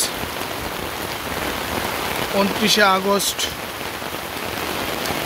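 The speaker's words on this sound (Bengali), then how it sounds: "দেখেন মুষলধারায় বৃষ্টি হচ্ছে" Heavy monsoon downpour pounds down in Gazipur's Mawna area, a dense, continuous roar of rain on surfaces, with someone briefly speaking over it midway.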